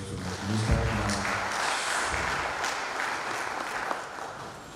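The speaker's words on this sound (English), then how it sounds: "can you give another round of applause" Audience applause for a retiree at a commission ceremony, a broad wash of clapping that holds fairly steady and stays moderately distant, with no talk over it.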